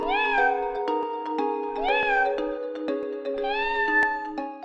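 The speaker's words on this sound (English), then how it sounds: "you can meow with the press of a button." A cat in a video game meows on a button press, three or four short rising-and-falling meows over a steady melodic game music background.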